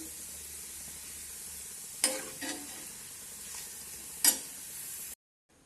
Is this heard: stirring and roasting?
yes